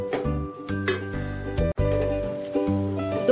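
Grated coconut sautéing in ghee in a pan for coconut barfi, a steady soft sizzle with intermittent clinks and scrapes of a metal spoon against the pan, close and unaccompanied by talk.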